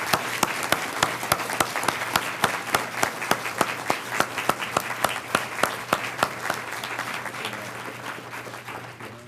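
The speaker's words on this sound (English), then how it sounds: "Let's have a round of applause for the Mathcounts clubs." Applause at a school district board meeting for the Mathcounts clubs: a handful of distinct, rhythmic claps stand out over a softer room-wide clapping that gradually thins and fades toward the end.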